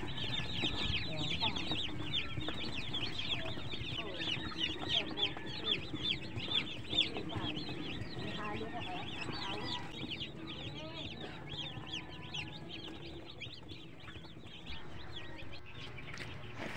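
Newly arrived chicks peep in a brooder, with many high, rapid chirps overlapping continuously at moderate loudness and a faint hum underneath.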